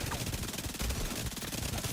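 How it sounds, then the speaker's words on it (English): A hostile assault turret in The Division 2 fires rapidly, and the dense, continuous machine-gun rattle runs throughout at a fairly loud level with little pause. "Hostile assault turret detected."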